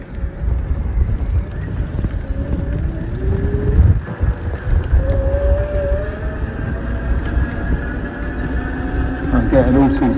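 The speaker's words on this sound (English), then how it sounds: "Can't really do this test in this wind." Wind buffets the microphone while riding an e-bike fitted with a 250-watt conversion kit into a headwind, a steady low rumble with a faint whine rising above it throughout.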